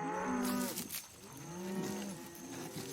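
A cow from a cartoon moos twice, long and drawn out, close and fairly loud, with a short pause between the two calls.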